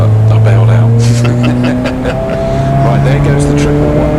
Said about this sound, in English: there goes the 111 car heading out to the circuit